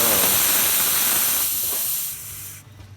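Loud, broad steam hiss roars from the steam wand of a freshly tuned-up La Pavoni lever espresso machine, holding steady for about two seconds before it tapers off and cuts out.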